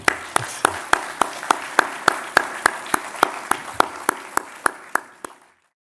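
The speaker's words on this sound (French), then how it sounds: "je pense qu'on peut vous remercier et vous applaudir." Audience applause after a lecture on Armenia one year after the war: a slow, steady series of distinct claps at even intervals, fairly close and clear, stopping abruptly near the end with no talk over it.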